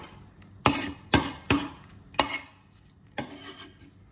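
Five sharp scraping strokes of a utensil against a lobster shell, pulling out the innards, each a brief rasping burst with short pauses between, close and fairly loud with no talking.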